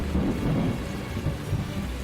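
Thunder rolls and rumbles low and heavy during the season's first rain, over a continuous rush of rainfall, with no voices.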